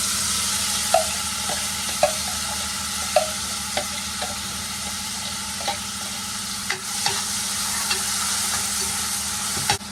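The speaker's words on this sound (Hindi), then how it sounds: "प्याज भी डाल लेते हैं इसके अंदर" Chopped onion fries with ajwain and cumin in a pan, a steady loud sizzle broken by regular stirring taps of a spoon against the metal, with no voices.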